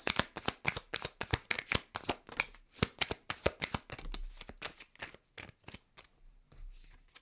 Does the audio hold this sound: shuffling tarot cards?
yes